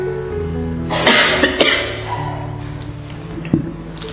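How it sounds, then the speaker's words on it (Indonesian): Coughs break out from an audience at an Indonesian philosophy lecture, with a burst of several overlapping coughs in the first half and a single sharp cough later, set against a steady hum of room noise. "Ayo lomba batuk."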